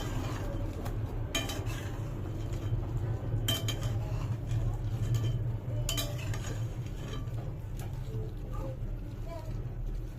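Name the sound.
stirring chicken wings in barbecue sauce in a pan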